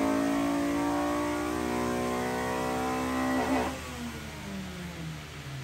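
Honda Type R engine revving hard on a dyno, a loud sustained high-rpm drone with rising harmonics that suddenly lets off near the end and winds down in pitch.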